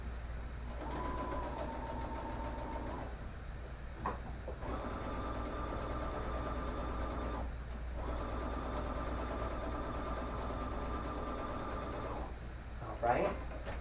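Sewing machine top stitching a fabric face mask, running in three steady buzzing bursts of a few seconds each with short pauses between, over a low constant hum.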